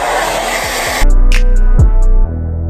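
A hair dryer blows steadily on a wig as it is brushed, a loud close rushing hum that shifts to a stronger, lower tone partway through and then drops again.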